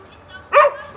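A dog that has come to drink water among farm animals gives one short, loud bark nearby, standing alone against a quiet rural background.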